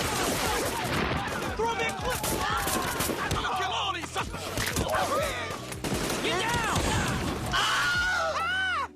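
Cartoon war reenactment with paintball guns standing in for rifles: dense, continuous bursts of rapid gunfire-like popping, mixed with shouts and screams and a music-like score throughout.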